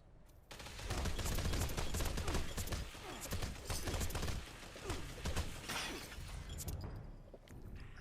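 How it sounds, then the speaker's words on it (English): Rapid gunfire from a quad fast-fire Tesla rifle in Fallout 76 PvP: a dense, continuous crackling electric barrage lasting several seconds, close and steady. "That was 120 fusion cells from a quad faster fired Tesla"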